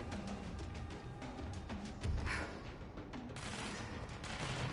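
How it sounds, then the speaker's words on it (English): Gunfire in the video game Control, bursts of rapid shots and fusillade crackling through the mix, with a louder boom near the middle, continuous and fairly dense. "I hear bullets"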